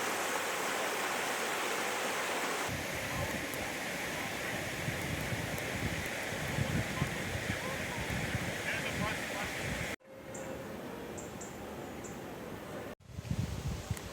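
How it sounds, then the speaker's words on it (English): Ultra-clean spring water pours steadily into the main lake at St. Naum, a constant rushing wash with a brief break and people talking faintly nearby. "you can watch that ultra-clean spring water emptying directly into the main"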